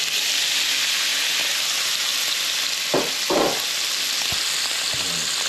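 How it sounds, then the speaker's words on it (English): Saltfish frying in a pan on low heat while cooking Caribbean cabbage and bok choy, a steady loud sizzle throughout, broken by two short bursts of added hiss near the middle, with no talking. "I'm gonna go ahead, drop the saltfish in this one here."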